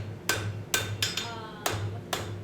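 Hammer blows on hot metal at an anvil during a forging session: six sharp, ringing strikes in an uneven rhythm over a low steady hum, moderately close.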